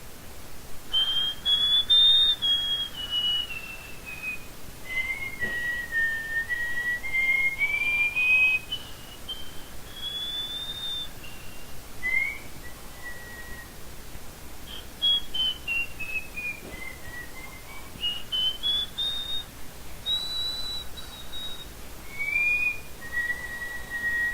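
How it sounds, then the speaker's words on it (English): Melodic whistling done with parallel hands, a clear gliding tune of rising and falling phrases that carries on steadily for the whole stretch with no talk. "the result is still a melodic whistling style"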